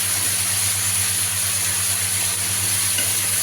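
Potatoes and eggplant frying in leftover fish oil with nigella seeds, a steady, loud, continuous sizzle with a constant low hum underneath and no talking.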